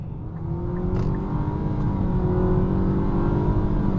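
Engine of a 2026 Nissan Sentra SR under full throttle in sport mode, heard from inside the cabin as a steady rising drone that builds gradually over four seconds.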